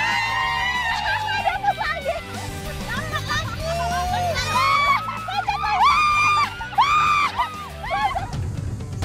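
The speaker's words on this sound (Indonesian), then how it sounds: "Belum dapat ikannya, udah pada teriak-teriak." Voices shout and whoop outdoors as people drive carp along a river toward a trap, with excited cries rising over a busy crowd babble and spoken talk.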